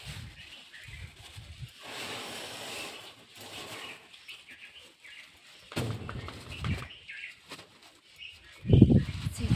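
Sparrows and other birds flutter and call around a feeding spot near a Shiva temple, with wing flaps and soft coos coming in bursts, growing louder toward the end.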